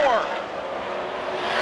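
Stock cars in an ARCA race at Winchester drone steadily as a pack roars by, the engine noise continuous and fairly loud with a brief rising whine at the start, while a commentator talks over it.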